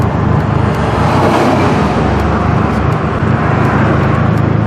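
Race car engine running under way on a road trip, a loud continuous engine roar with road noise that stays steady and close throughout, with no talk over it.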